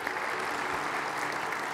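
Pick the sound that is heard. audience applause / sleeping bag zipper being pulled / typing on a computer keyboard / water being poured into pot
audience applause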